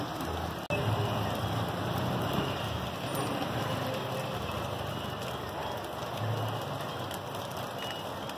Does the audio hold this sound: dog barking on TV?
no